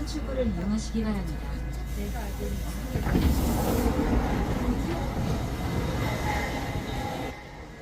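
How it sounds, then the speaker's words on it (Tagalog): A South Korean subway train rumbles and hisses steadily through its run, with people talking over the noise throughout. "subway sa Korea mga ropa. Para din siyang MRT sa atin sa Pinas mga ropa."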